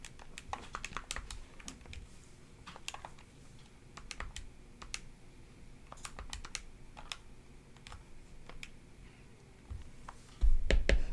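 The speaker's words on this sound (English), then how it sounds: "go ahead and type that in" Computer keyboard keys tapped in short, irregular bursts, close and fairly quiet, with a louder knock near the end.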